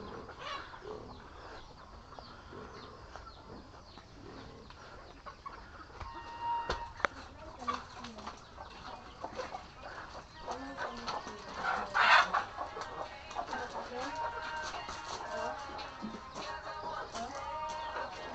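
Chickens cluck and call in a busy farmyard at feeding time, with scattered bird sounds and soft background noise, one louder squawk standing out midway.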